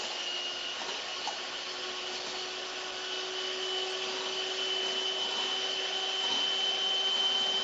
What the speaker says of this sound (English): I'm just going to be whisking the egg whites.